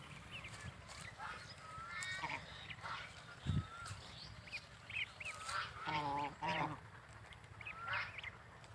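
Young goslings eating fresh green grass, giving scattered short honks and squeaky calls at close range over a low background murmur, some calls in quick bursts.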